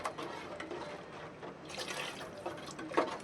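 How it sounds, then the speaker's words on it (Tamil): Water pours and trickles into a pot of Tamil-style fish curry made with tamarind water, a faint, brief liquid splash and gurgle with no talk. "தேவையான அளவு தண்ணி சேர்த்துக்கலாம்."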